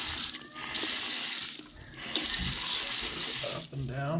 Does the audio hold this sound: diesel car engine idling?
no